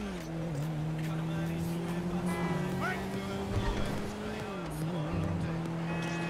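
A stolen car in a roleplay video game drives with a steady engine drone, shifting pitch as it speeds up and slows, with faint tire noise underneath and someone talking over it.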